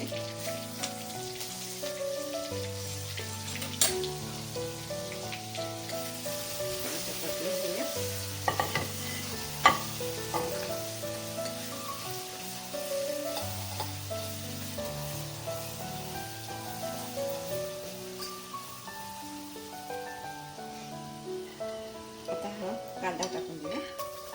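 Curry leaves sizzle and crackle in hot oil while being stirred, a steady close frying hiss with scraping stirs, over faint tonal background music.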